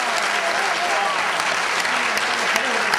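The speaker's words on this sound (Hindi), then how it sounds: "मैं चाहता हूं एक बार जोरदार तालियां इनके लिए हो जाएं।" A hall audience gives loud, sustained applause for a brigadier at a poetry gathering, dense clapping running evenly from start to finish with no pauses.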